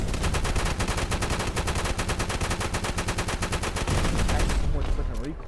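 Rapid automatic gunfire from a modded weapon in Fallout 4 on PS4 rattles loud and continuous, the shots dense and unbroken before tapering at the end.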